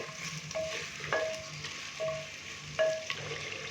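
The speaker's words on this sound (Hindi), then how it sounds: "तो यहाँ पे हम मटन को भून लेंगे तकरीबन 4 से 5 मिनट के लिए अदरक लहसुन के पेस्ट के साथ।" Mutton frying in a pan with ginger-garlic paste, a continuous soft sizzle broken by several short metallic scrapes and clinks as it is stirred, without any talk.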